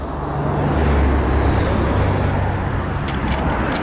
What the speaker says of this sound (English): Another Thorpe Park bus.